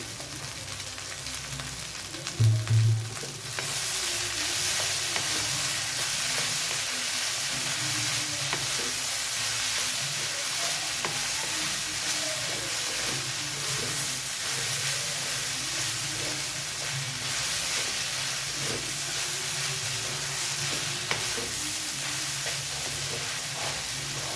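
Onions and crumbled idli sautéing in a pan for idli upma, a steady loud sizzle with scraping stirs throughout and a brief clatter near the start, no talking.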